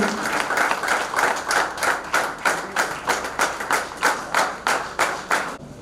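An audience at a JCI meeting in Jaunpur claps in a steady, rhythmic unison beat as a guest takes his seat, close and loud with no talking over it.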